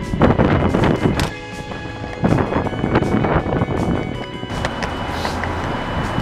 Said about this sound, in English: It's a little windy and a little bit cold.